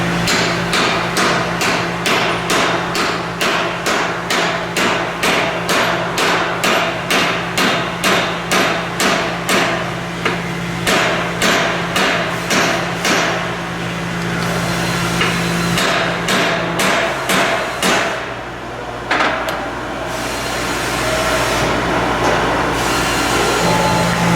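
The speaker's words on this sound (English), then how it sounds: "tap the cap in slowly and carefully with your hammer" Steady metallic hammer taps in a quick, even rhythm as a U-joint cap is driven in, many strikes in a row, pausing briefly before a few final blows.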